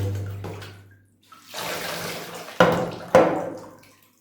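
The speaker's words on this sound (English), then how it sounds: "How do I water this one? Well, quite simply, let it go." Water poured onto a potted orchid, a steady splashing stream that runs for a few seconds, then two sharp louder splashes as more water hits the pot and soil, close by.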